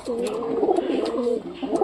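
A pigeon coos in soft, rolling low notes, repeated in a continuous throaty burble close by.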